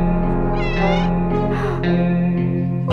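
A cat in the video game 60 Seconds! Atomic Adventure meows loudly and close, giving a few drawn-out tonal meows in a row.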